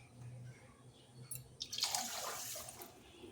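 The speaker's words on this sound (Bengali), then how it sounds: "1 কাপ চিনির সাথে 2 কাপ জল দিয়ে দেবো।" Water poured into a pan of sugar to make syrup for mango juice, a brief splashing rush that starts suddenly and continues steadily after a quiet moment, close and fairly loud.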